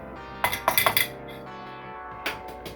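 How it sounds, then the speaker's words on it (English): A fork whisks a single egg in a bowl, giving a quick cluster of bright metallic clinks against the dish, a pause, then one more clink, close and clear with no talking. "I'm gonna whisk, stir that egg together with my fork"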